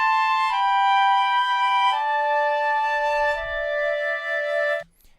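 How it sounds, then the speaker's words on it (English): Layered clarinet and flute MIDI stacks play a few sustained notes in stepwise changes, clean and alone, ending abruptly. "now we have a little neat clarinet stack and a neat flute stack."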